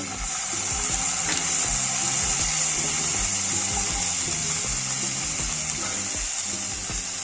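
Onions fry lightly in a hot pan, a loud, unbroken hiss close by with faint low thumps running beneath it throughout.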